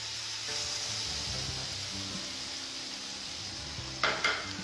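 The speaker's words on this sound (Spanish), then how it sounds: "Lo dejamos sofriendo." Onion and sweet pepper sauté in a pan with a steady close sizzle and hiss throughout, and a couple of brief clinks of a utensil near the end.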